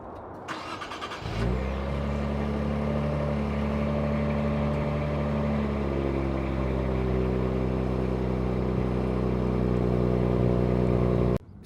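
An Infiniti Q60 engine cranks briefly and fires, then settles into a loud, steady idle with a rich low hum that eases slightly a few seconds in, recorded close by with no talking.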